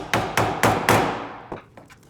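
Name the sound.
mallet striking an awl to punch holes in mussel shells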